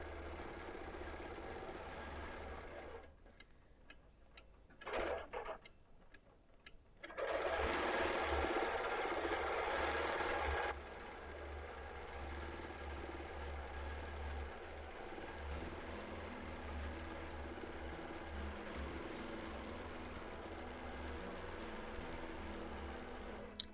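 A sewing machine runs slowly through straight-line quilting, its steady stitching hum continuing across most of the stretch, briefly pausing and then picking back up, close and fairly loud with no talking.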